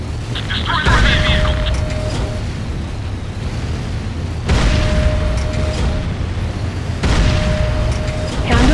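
A Hand of Nod building explodes in Command & Conquer, with loud booming blasts bursting out three times at steady intervals over a constant rumbling battle din, while an announcer's voice talks over the action.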